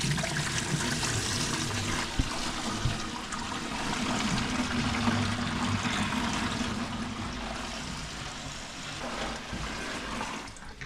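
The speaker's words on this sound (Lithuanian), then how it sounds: "Bandom pilt vandenį." Water being poured in to test a newly connected system, a continuous gushing trickle with a gentle flowing wash that holds steady and fades slightly toward the end, no speech.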